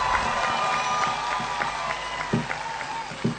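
An audience claps at a comedy show in Marwari, with a steady wash of crowd applause and occasional louder bursts throughout.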